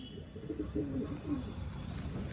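Soft, low pigeon cooing, a short rolling coo heard faintly against a quiet background.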